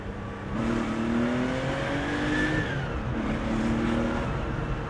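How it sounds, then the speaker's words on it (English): A Porsche engine revs and accelerates up through the gears, a steady, loud motor tone with rising pitch sweeps heard from inside or close by, no talk over it. "This has that sound that I love about Porsches."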